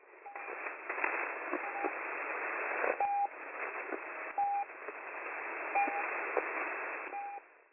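Shortwave channel marker pips, brief steady tones repeating at irregular intervals over loud band static and noise bursts.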